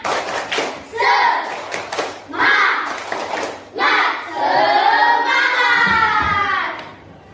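Schoolchildren in a classroom repeat a rhythmic spirit clap, sharp patterned clapping trading off with loud unison shouting and chanting, close and energetic.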